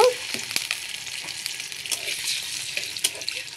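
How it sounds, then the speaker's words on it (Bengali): Shrimp fry in hot oil in a pan, giving a steady close sizzle with sharp spitting pops and the clatter of stirring. "তো একটু তেল দিয়ে দিলাম, আর চিংড়ি মাছটা আমরা আগে একটু ভেজে নিব।"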